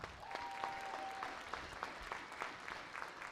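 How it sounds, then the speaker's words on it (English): Audience applause at a school season-review concert event, a steady wash of clapping with scattered sharper claps, moderately distant, with no speech. "Let's give them all a round of applause."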